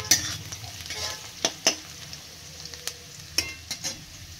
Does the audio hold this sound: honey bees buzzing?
no